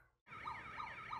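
After a moment of near silence, an emergency siren starts abruptly and wails in repeating rising and falling sweeps, steady and moderately loud.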